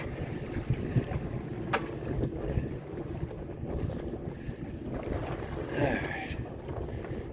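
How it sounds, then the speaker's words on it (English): Wind rushes steadily around a sailboat under way, with water sloshing and gusting blasts against the microphone, continuous and moderately loud. "the wind just picked up and she's tracking well"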